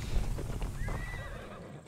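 A horse whinnies in a rising, wavering call in the video game Assassin's Creed Valhalla, over a steady background rumble, with some clopping and shuffling underneath.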